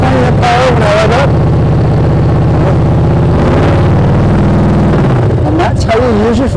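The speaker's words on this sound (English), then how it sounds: "lift my throttle, so I have plenty of power when I rev up" Motorcycle engine revving while the rider works the clutch friction zone, with rising and falling rev bursts over a steady running engine, close and loud, with some talking over it.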